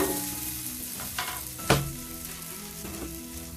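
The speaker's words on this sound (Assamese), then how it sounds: "ভালকৈ তেলত ভাজি ল'লোঁ।" Boiled, smashed potatoes fry in hot oil in a pan, giving a steady close sizzle with a few sharper pops and stirring scrapes.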